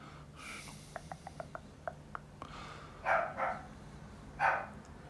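A dog barks a few times in a Normandy war game, sharp woofs rising out of a quiet background after a run of faint clicks, one pair of barks close together and another bark a moment later.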